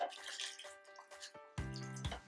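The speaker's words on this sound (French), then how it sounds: "Rajouter de l'eau." Water pours into a pot of Cameroonian ndolè, a steady splashing stream that turns into a louder, fuller gush near the end. It is close and heard on its own.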